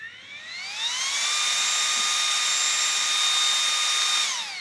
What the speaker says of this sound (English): It's like a mini air blower, like a air blower.